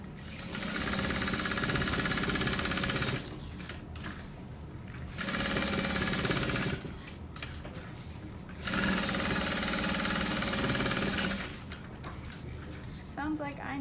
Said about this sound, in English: Sounds like I need to oil my machine, or my bobbin isn't quite in right.